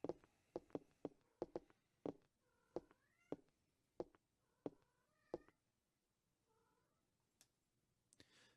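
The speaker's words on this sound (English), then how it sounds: "I need to get this cat off of me" A cat meows several times in short, clear calls spaced through the stretch, each a brief rising cry, close by, with light clicking and tapping between them and no talk.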